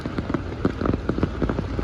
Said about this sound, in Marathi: पाऊस खूप जोरात पडतोय